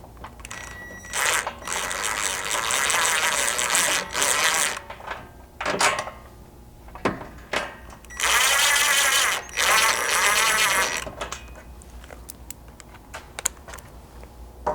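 Power tool or ratchet driving 5/16 button head bolts into nut tabs on a Ford Bronco Sport catalytic converter skid plate, heard as several loud bursts of whirring and clicking separated by pauses.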